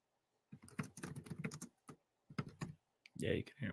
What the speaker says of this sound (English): Yeah, you can hear him typing.